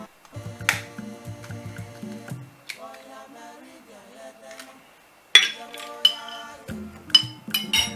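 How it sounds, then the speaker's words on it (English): Eggs crack into a bowl in a home kitchen, making several sharp close clicks and taps, interspersed with light clinks of a shell or utensil against the bowl. "I'm now breaking my eggs into my bowl."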